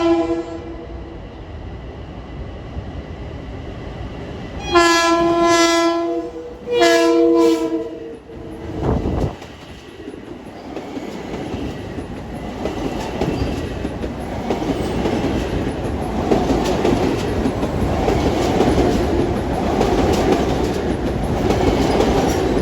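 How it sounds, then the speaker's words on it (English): Commuter train 2008, New York to Ronkonkoma, pulls eastbound out of Mineola station, opening with several loud horn blasts, then a swelling rumble and rhythmic wheel clatter of cars rolling past nearby. "pulling eastbound out of the station at 6:43 is train 2008 from New York to"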